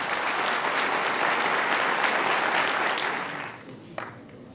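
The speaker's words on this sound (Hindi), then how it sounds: "और एक बार फिर ताली बजाइएगा आप" Audience applause at an IAS toppers' preparation event in Hazaribagh, steady and full for about three seconds before thinning out, with a single sharp clap near the end.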